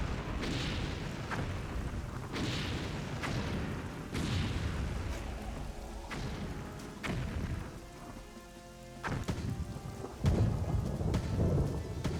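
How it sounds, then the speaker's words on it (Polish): Steady rain hisses while repeated thunder claps and rumbles roll through, several loud cracks spaced a few seconds apart, no voices, in the video game Blitzkrieg. "bo deszcz. Ograniczenie zasięgu."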